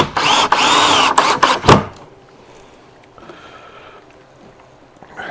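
A power drill drives screws into a wooden shipping crate in a few short, loud bursts of whirring, followed by quieter handling noises and near silence.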